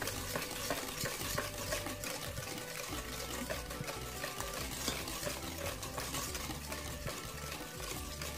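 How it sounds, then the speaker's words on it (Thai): Rice mixed with sugar is stirred for a sweet, continuous wet scraping and swishing at close range with a steady, busy texture and no voices. "คนข้าวผสมกัน"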